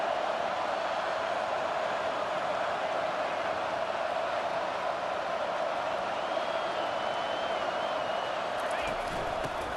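In EA Sports College Football 25, a simulated stadium crowd roars as a dense, steady wash of noise at a Syracuse versus Florida game.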